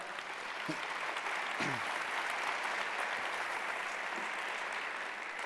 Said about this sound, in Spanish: den el aplauso, por favor